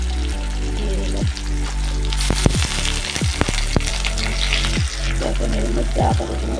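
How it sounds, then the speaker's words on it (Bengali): Chopped green chillies drop into hot oil with chopped tomato in a pan, sizzling steadily and loudly close up, broken by several sharp clinks and scrapes of a spoon against the pan. "এর মধ্যে এখন ছোটো রাখা কাঁচা লঙ্কাটা দিয়ে দিলাম।"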